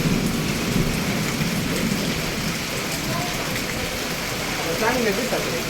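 Steady, dense rainfall hisses continuously in the hills near Bhimashankar, with a low rumble underneath and faint voices briefly audible toward the end.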